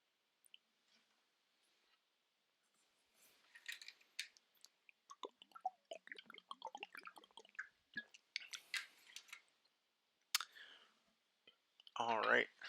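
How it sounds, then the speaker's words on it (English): Decks of trading cards for a Digimon card game are shuffled at a table: quiet, rapid crisp clicks and riffling bursts, close and soft, with brief pauses and a louder rustle at the end. "So we are shuffling some decks."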